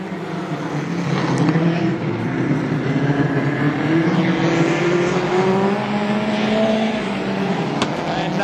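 Street stock race cars lap a dirt oval at Gympie Speedway, engines droning steadily with rising and falling pitch as several cars pass fairly close under a continuous roar.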